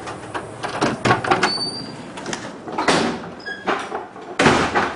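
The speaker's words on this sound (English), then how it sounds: "So we go in the back door here." A back door of a house being opened and shut, with several loud knocks, clunks and latch rattles in an uneven sequence, close by and without speech.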